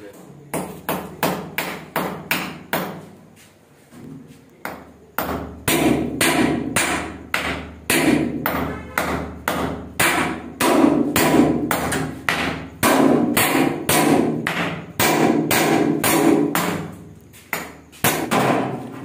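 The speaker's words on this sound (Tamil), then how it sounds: "நம்ம இந்த மாதிரி ஆணியை வச்சு ரேக்கை வந்து செவத்தில் வந்து ஃபிட் பண்ணிடலாம்" Nails hammered into a wall to mount a rack in a grocery shop, loud and close, a long run of rapid, evenly spaced metallic blows with brief pauses between bursts.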